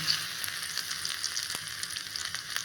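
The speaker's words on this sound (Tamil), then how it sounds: "அடுத்தது கொஞ்சம் எண்ணெயில் முந்திரி, கருகிறதுக்கு முன்னாடி எடுத்துருங்க." Cashews fry in a little hot oil, a steady close sizzle with light crackles throughout, nothing else heard.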